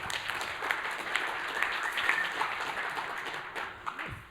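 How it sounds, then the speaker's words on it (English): An audience at a cybersecurity conference applauds to welcome two speakers, a steady, moderately loud wash of clapping from a crowd that holds for several seconds and then begins to thin. "give them a warm welcome applause"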